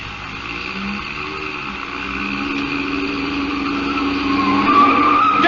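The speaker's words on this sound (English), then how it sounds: "You turn that corner on 2 wheels." A radio drama car screeches around a corner, its tires squealing in rising, sustained whines over a growing engine drone that builds in loudness to a sharp high squeal at the end.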